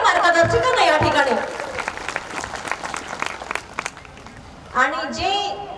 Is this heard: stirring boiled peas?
no